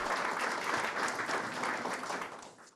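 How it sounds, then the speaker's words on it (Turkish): An audience at a memorial event applauds after a poem, a dense and sustained wash of clapping from many hands that fades out at the end. "İzleyicilere duygusal anlar yaşatan şiir uzun süre alkışlandı."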